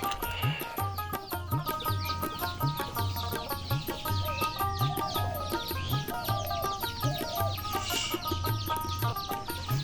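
Chickens cluck repeatedly and fairly close at a small backyard pigeon and poultry setup, a busy continuous chorus of overlapping clucks with a steady rhythmic background beat running underneath.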